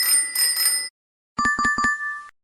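A bicycle bell rings in a sustained, shimmering burst, then after a short pause gives several quick, bright dings in succession.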